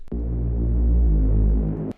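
A synth riser in Logic Pro X near the end of a future rave drop: a dense, throbbing low-heavy tone swelling steadily and pulsing, loud and alone, cutting off abruptly.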